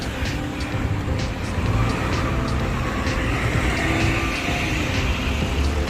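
A car passes along a street in Juffair, Manama, with a steady engine and tyre roar against busy road traffic and no talk.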